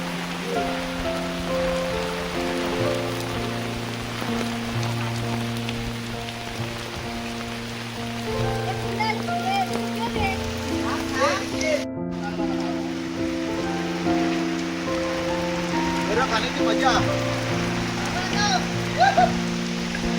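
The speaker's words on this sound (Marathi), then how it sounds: "आज पाऊस भरपूर आहे" Constant hiss of heavy monsoon rain pours down steadily beneath music with sustained tones and some voices, dense and unbroken throughout.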